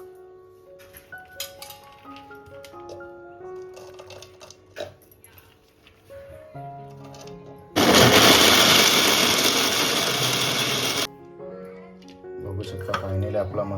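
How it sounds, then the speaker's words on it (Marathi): An electric mixer grinds dried jackfruit seed slices coarsely, a loud, harsh whirring roar lasting about three seconds, framed by someone talking and soft kitchen clinks before and after. "आता आपण मिक्सरला बारीक करून घेऊ दरदरा"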